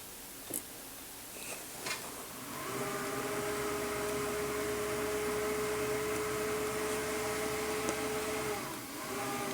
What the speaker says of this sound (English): the sound you're hearing is the boost pump for my water system in my house here